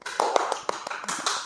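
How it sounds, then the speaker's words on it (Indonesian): Short burst of hand clapping in a podcast studio, a few people applauding quickly and close to the microphone with a rapid, uneven rhythm. "Tepuk tangan dong."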